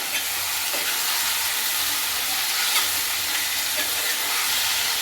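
Tomato pieces stirred with rock salt in a hot pan, a steady loud sizzle and hiss with faint scraping of the spoon running throughout, no voices.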